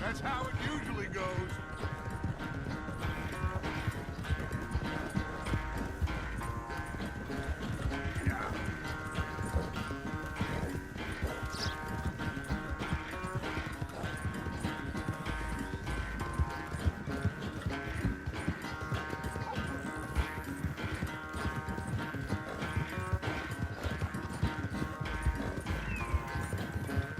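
Horse hooves clip-clop steadily through a race, a dense continuous rhythm that runs the whole stretch under constant background music and scattered voices.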